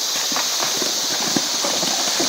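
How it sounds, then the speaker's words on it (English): A horse carries a rider on a trail ride near waterfalls at Jaco Beach, Costa Rica; hooves clop in an irregular rhythm, close by, under a constant windy hiss. "And here comes Renee with her horse"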